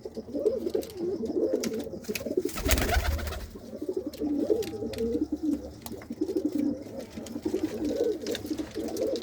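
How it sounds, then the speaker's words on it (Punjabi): Pigeons coo steadily in their loft nest boxes, several overlapping rolling calls near and continuous, with a brief loud burst of broadband noise partway through. "ਹੁਣ ਕਬੂਤਰ ਸਾਰੇ ਜਿਹੜੇ ਹੈਗੇ ਆ ਆਪੋ ਆਪਣੀਆਂ ਥਾਵਾਂ ਤੇ ਖਾਨਿਆਂ ਦੇ ਵਿੱਚ ਜਿਹੜੇ ਉਹ ਬੈਠੇ ਰਹਿੰਦੇ ਆ"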